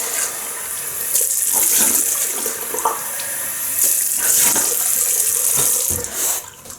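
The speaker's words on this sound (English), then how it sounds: "I'll rinse off." Tap water running steadily into a sink while rinsing off after a shave, a loud close hiss with splashing variations as hands move through the stream, cutting off near the end.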